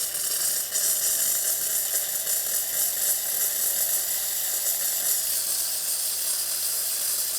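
A Dupray Neat Plus steam cleaner sputters and hisses, a loud continuous rough spray of steam with crackling irregular bursts throughout, close up and with no talking.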